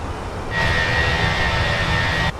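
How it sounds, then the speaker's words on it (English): Airliner jet engines of a Fenix A320 in MSFS 2024, a steady whining roar that swells in, holds evenly for about two seconds with a high tone, then cuts off. "are the engines too loud?"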